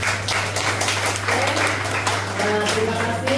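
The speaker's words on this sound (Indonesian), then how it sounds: "berikan tepukan." A crowd applauds steadily throughout, with a voice talking faintly beneath the clapping.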